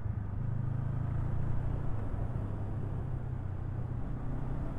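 A 2024 Honda CB500 Hornet motorcycle engine drones steadily under a little throttle, a close, continuous low-pitched hum with wind and road noise that holds level throughout, with no talking.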